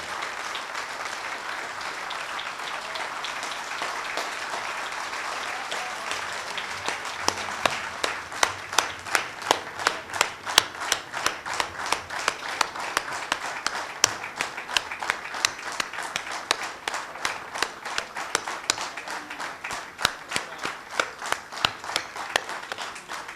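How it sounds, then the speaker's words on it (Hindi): Audience at a Hindi poetry event applauds, starting as scattered clapping that swells into a long, rhythmic unison clap, sharp regular beats carrying on steadily for over fifteen seconds. "आपकी तालियां बता रही हैं कि आज का यह कार्यक्रम कैसा रहा।"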